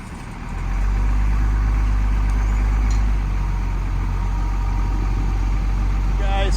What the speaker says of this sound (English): we're going to move this heavy or medium-sized heavy wrecker into the off-road soft dirt area